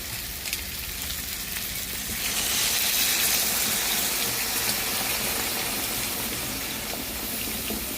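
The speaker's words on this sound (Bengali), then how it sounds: "যেহেতু সিদ্ধ হবে আমি একটু জলটা বেশি দিলাম" Water poured into a pot of sautéed arum root and prawn curry, a rushing splash over the frying sizzle that swells for a few seconds then settles into a steady hiss.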